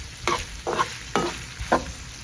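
Sausage sizzles in a pan while being stirred and turned, with four distinct scraping strokes over a steady low frying crackle, close by.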